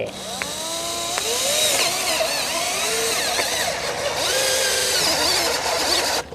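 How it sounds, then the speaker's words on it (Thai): Power drill boring a hole through PE pipe, a steady high whining drill drone that runs continuously with a few pitch shifts, close and loud throughout. "เดี๋ยวเราจะเจาะให้ดูเลยครับ"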